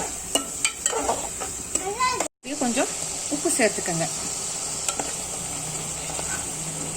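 A thick tomato and onion paste sizzles and hisses steadily in a pan while being stirred for fish curry, with a person and children talking nearby over the cooking noise.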